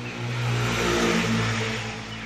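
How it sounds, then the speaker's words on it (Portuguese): A noisy motorcycle passes by outside, its engine swelling to a loud, rumbling roar at the midpoint and then fading slightly, heard alone without voices. "Acabou de passar uma moto aqui estragando meu vídeo. Moto barulhenta."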